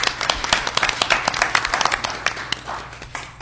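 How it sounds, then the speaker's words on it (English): Audience applause at a school district board meeting, a burst of many hands clapping steadily and fairly close, fading slightly toward the end with no talking over it. "Now we can clap one more time"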